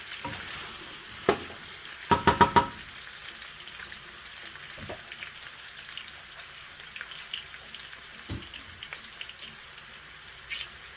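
Onions fry in a pan with a soft, steady sizzle, interrupted by a quick cluster of metallic clinks from stirring and a few isolated knocks. The sound is fairly quiet and close.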